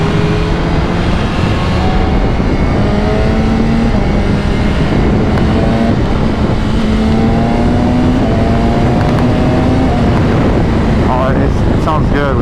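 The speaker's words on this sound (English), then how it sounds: "It sounds so good with the stock exhaust." A 2025 BMW S1000RR with its stock exhaust pulls loudly and continuously, the engine note rising through the gears amid heavy wind rush from riding.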